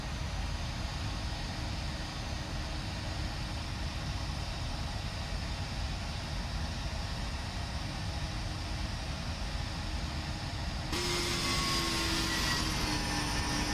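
Twin jet engines of a PMDG Boeing 737-700, the short-body variant, droning steadily in a flight simulator during the climb after takeoff, a continuous loud broadband roar with a whining tone entering near the end.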